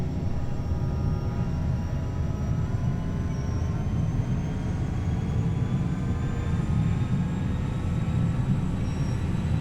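An airplane's engines roaring steadily during a takeoff run in the X-Plane 10 flight simulator game, a loud unbroken rumble with faint rising whine tones and no talking.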